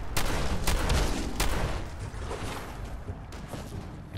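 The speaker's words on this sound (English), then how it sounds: "Shotgun." Shotgun blasts and heavy gunfire in Fallout 4, a dense loud burst of shots in the first half, easing into a steadier rumble of fire and movement afterward.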